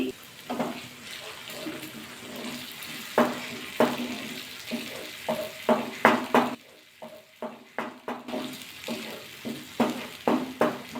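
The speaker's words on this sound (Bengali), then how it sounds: "ভালো করে মিশিয়ে নিতে হবে" A spoon works through fish rezala paste with yogurt, poppy seed, cashew and melon seeds in a pan, making repeated scraping clinks and soft wet stirs in an uneven rhythm, close and moderately loud.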